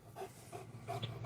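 A Cane Corso pants in short, soft, rhythmic breaths, close by but fairly quiet, with no one talking.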